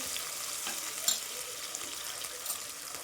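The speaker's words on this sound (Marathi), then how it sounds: "कांदाही दमवरच मी लाल करणार आहे" Chopped onion cooks slowly in oil in a pan on low heat for a potato and pea curry, giving a steady, soft sizzling hiss with faint crackles and a couple of brief louder pops.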